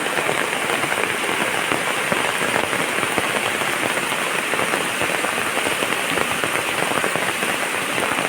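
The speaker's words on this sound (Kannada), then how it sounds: "ನೋಡಿ ನೀರು ಎಷ್ಟು ಫಾಸ್ಟ್ ಇದೆ ಅಂತ" Steady, dense rushing water fills the whole stretch, a constant loud wash with fine spattering texture, no voices.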